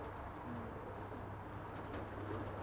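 Racing pigeons coo in a low, steady background murmur, faint and continuous throughout.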